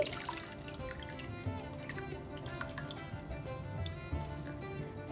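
Water runs and drips into tamarind juice in a kitchen while a mango fish pulusu is made, giving soft trickling, splashing and dripping sounds with a few sharper clicks, fairly close and fairly quiet, with no talking.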